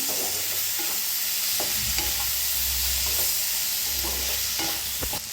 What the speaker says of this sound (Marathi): तर मिक्स करून चांगलं भाजून घेऊया